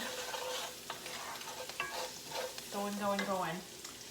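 Garlic sizzles in a hot pan for linguine in white clam sauce, a steady frying hiss with spoon stirs and scrapes near the mic, and a brief tonal squeal toward the end.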